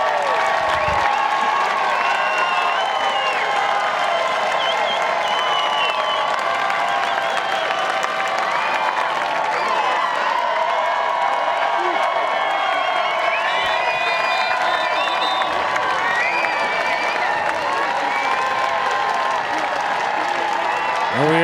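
A standing crowd applauds and cheers steadily at an ultimate frisbee bronze medal match between Australia and Great Britain at the World Ultimate Championships, with dense continuous clapping and scattered whoops.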